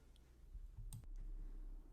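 A computer mouse gives one crisp click during a Crunchbase Pro search, alone over a low background hum.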